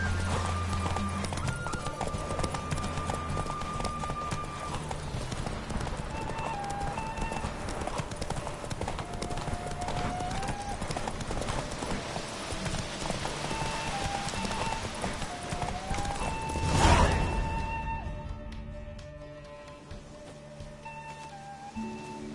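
A horse gallops in The Witcher, its hooves clip-clopping in a steady rhythm with game music underneath, and a short neigh rises near the end before the hoofbeats fade.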